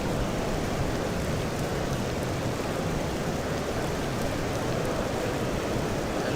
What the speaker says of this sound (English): It seems to have started raining and umbrellas are going up around the ground.